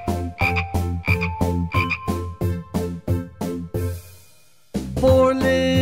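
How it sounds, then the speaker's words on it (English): Speckled frogs croak in a rhythmic series of about a dozen evenly spaced, full, throaty croaks, then pause briefly before a sustained, tonal passage resumes. "Then there were just four speckled frogs."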